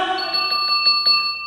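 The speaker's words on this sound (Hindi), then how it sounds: "घंटी बजा।" A temple bell rings with a sustained metallic tone, struck several times in quick succession with shimmering overlapping resonance.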